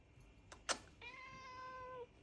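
A single drawn-out meow from a pet cat indoors, close and moderately loud, lasting about a second after a couple of brief clicks.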